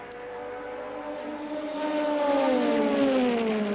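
Group C sports prototypes, a Toyota, a Nissan and a Jaguar, race at Fuji, their engine notes rising and sweeping past as they grow louder.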